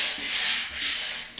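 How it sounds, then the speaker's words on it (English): Two quick back-and-forth strokes of 120-grit sandpaper on a 3M sanding block rasping against a surface, close and fairly soft, with no voices. "I have here is a 3M sanding block with 120 grit"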